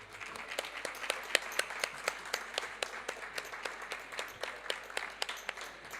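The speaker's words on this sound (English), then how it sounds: "A big round of applause for these guys." Sparse audience clapping for a panel at a COP27 session, a handful of distinct, fairly regular hand claps ringing out clearly over a quiet room, rather thin and faint overall.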